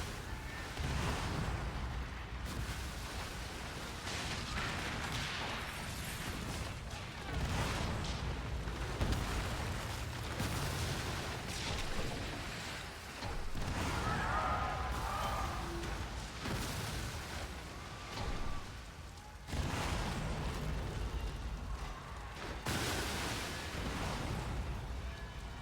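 Ship cannon fire and explosions in the pirate naval game Skull and Bones: a dense, continuous rumbling barrage with repeated heavy booms rolling over one another for the whole stretch, and no talk.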